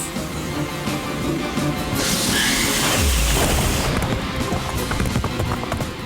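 Magic blasts strike cave walls in an animated fantasy battle, followed by a deep rumbling boom and crashing rock as the cave collapses, loud and dense with layered impacts.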